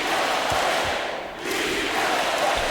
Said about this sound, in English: Their crowd letting them hear it.